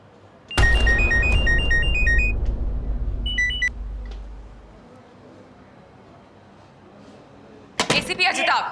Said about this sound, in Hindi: मैं कब से आपको कॉल कर रही हूँ, आप मेरा फोन क्यों नहीं उठा रहे?